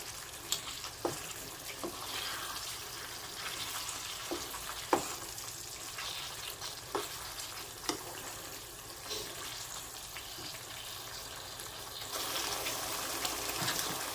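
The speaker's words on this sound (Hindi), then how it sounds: "साथ में चिकन डाल देने लगी हूँ, चिकन भी साथ साथ भून जाएगा।" Chicken pieces browning in a pan for butter chicken give a steady, close hiss of frying, broken by scattered sharp pops and utensil clicks, with no voices.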